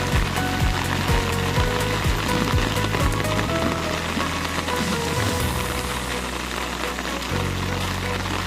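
Heavy rain pours down at an outdoor resort in a dense, unbroken roar, loud and continuous, with low rumbling underneath throughout.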